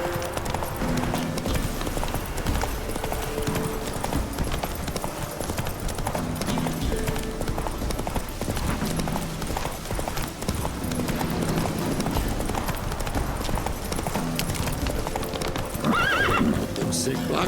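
Roach the horse gallops with rapid, continuous hoofbeats in The Witcher 3, layered under game music and occasional talking, with a whinny near the end.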